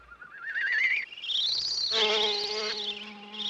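Bee buzzing around a flower, a close, wavering drone that rises and falls in pitch for a few seconds, alone.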